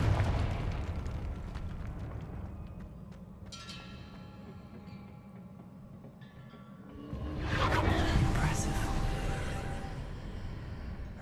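A Confringo fire spell explodes in a video game, a loud rumbling blast with a rush of noise that flares up sharply partway through and then slowly settles.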